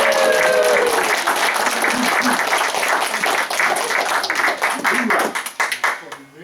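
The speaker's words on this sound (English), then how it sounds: "So give them another round of applause." Audience applause for a group of kids after a presentation, a steady dense clapping that holds for about five seconds and then thins and breaks up into scattered claps, with some voices mixed in.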